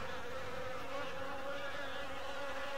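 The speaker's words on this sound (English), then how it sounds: "They got it to where like the bees are on these." In the WolfQuest video game, bees hover around flowering plants, giving a continuous close, faint buzzing hum with no talk.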